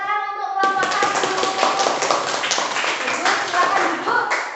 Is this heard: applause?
yes